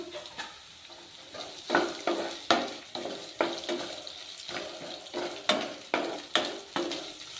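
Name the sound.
dry red chilies frying in a pan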